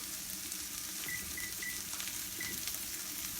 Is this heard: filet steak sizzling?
yes